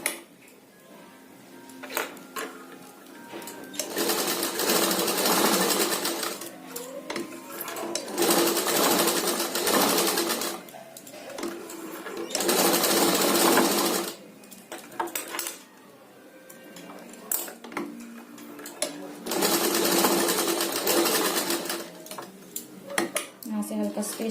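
A sewing machine stitching a fabric tassel runs in repeated bursts of fast, steady rattling clatter, stopping and restarting several times, with a voice heard in places between and under the stitching.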